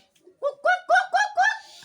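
A voice mimics a bird call, a short series of five rhythmic cooing notes rising in a quick sequence.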